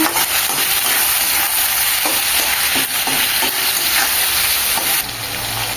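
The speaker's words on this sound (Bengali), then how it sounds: "টমেটো কুচি, স্বাদ মতো লবণ দিয়ে ভালোভাবে একটু নাড়াচাড়া করে নেব।" Chopped tomatoes with green chillies and salt sizzle loudly in a pan as a spatula stirs them, a constant frying hiss broken by soft scraping strokes.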